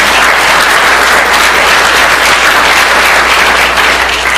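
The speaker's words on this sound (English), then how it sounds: "Give them a warm hand of applause." A workshop audience claps in steady, dense applause, loud and continuous throughout with no talking.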